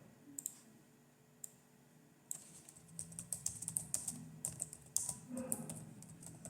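Typing on a laptop keyboard, quiet close-up key clicks, a few isolated taps at first, then a faster, steadier run of keystrokes.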